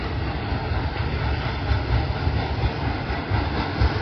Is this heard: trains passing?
yes